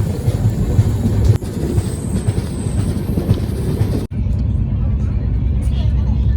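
The 14650 Saryu Yamuna Express heads toward Bihar with a loud, continuous rumble and rattle of wheels on the rails, heard up close from on board. Two brief dips break the steady roar.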